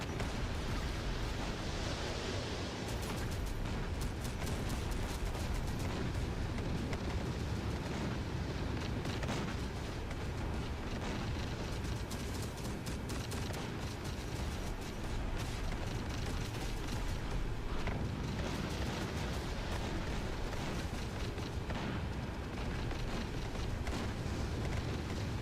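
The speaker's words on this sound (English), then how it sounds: "The artillery is insane." Artillery fire and explosions in a video game, a dense, continuous roar of rumbling booms and bursts, loud and unbroken for the whole stretch with no clear gaps between blasts.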